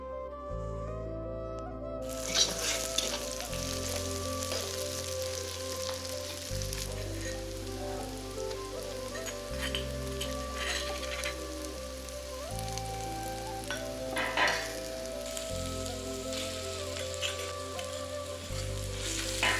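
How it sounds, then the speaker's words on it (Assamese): Onions sizzle steadily in leftover oil after eggs have been fried in it, a continuous crackling hiss close up, with soft background music running underneath throughout. "এতিয়া বাকী থকা তেলখিনিত পিঁয়াজখিনি মই ৰঙচুৱা হোৱালৈকে ভাজি ল'ম"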